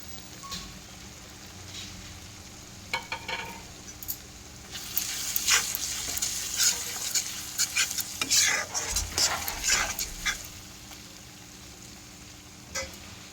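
Ground coriander, cumin and chilli powder sizzling in a pan with oil while being stirred for a chicken curry, with spoon scrapes and clatter growing busier midway, all close and fairly soft.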